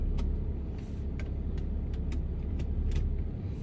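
A car adapted for a disabled driver runs just after being switched on. Its engine gives a steady low hum, with a series of light, regular clicks ticking over it and no talk.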